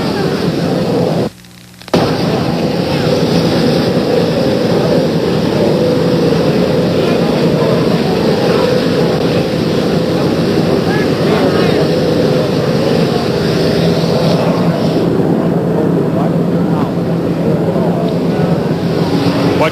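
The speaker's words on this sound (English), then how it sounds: "An Army helicopter has just landed. It's making a great deal of noise." An Army helicopter sits on the ground beside the presidential jet, its rotors and turbine roaring in a loud, continuous wash that barely breaks for a moment, with a faint voice partly masked beneath the noise.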